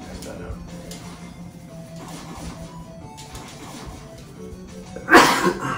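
One sharp, loud sneeze bursts out near the end, after a stretch of quiet background with faint game sounds and murmuring.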